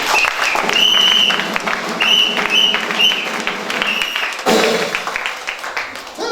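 Congregation at a church service applauding and cheering, loud and dense throughout, with a short dip before a fresh burst of clapping near the end.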